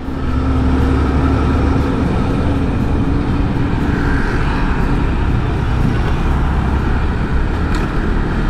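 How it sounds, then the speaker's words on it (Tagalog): Road traffic on EDSA in Manila near North EDSA, a steady loud roar of engines and tyres with a low rumble running throughout, no talk. "Ayun na, traffic."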